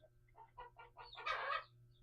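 Chickens in a backyard coop cluck in a quick run of short, rising calls, followed by a louder, drawn-out squawk, close by over a low steady hum.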